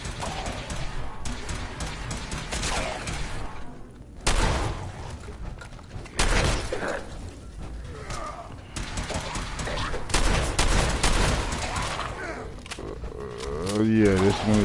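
Shotgun blasts in the video game Fallout 4, a few heavy booming shots spread across the stretch amid game combat noise and creature sounds, with a player talking over much of it.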